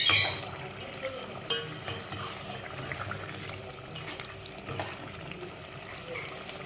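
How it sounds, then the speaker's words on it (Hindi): Onions for beef korma fry over a high flame, giving a continuous sizzle with occasional stirring scrapes and clinks of the pan, close and moderately loud throughout. "प्याज डालने के बाद आप थोड़ा सा हाई फ्लेम करके इसे अच्छी तरीके से भून लीजिए"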